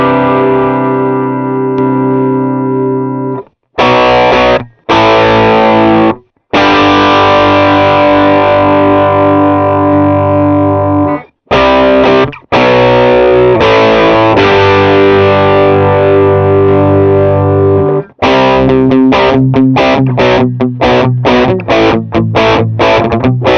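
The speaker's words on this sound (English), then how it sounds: "This is the overdrive." Overdriven electric guitar through the S-Gear amp simulator by Scuffham Amps, loud and saturated with chords and riffs broken by short pauses, then choppy staccato strums toward the end, played alone.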